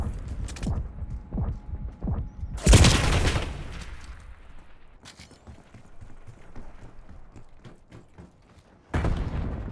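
A frag grenade goes off in a Call of Duty match, a loud broadband blast that rings out and decays amid scattered gunfire and game noise, with another burst of noise near the end.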